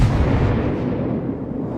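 Warship shells firing and hitting in World of Warships, armor-piercing and high-explosive rounds: a loud, continuous rumbling blast with booming low end that slowly fades, no voices over it.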